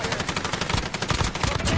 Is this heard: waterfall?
no